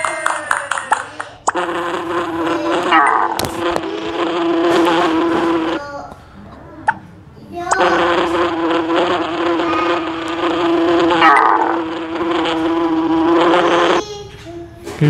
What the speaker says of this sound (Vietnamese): Cái lũ ong trong game này vô cùng đáng sợ bởi chúng nó có khả năng là hất tung lên.